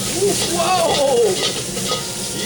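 Kung Pao chicken with bell pepper, celery, carrot and green beans stir-frying in a pan, loud continuous sizzling close by, a faint voice-like tone rising briefly over the hiss.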